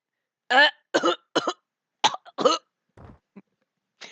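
A person coughs and chokes in harsh, voiced bursts, about five loud coughs in quick succession followed by fainter rasping gasps, close up with no other sound, imitating a character being overcome by a violent coughing fit.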